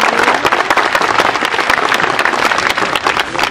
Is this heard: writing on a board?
no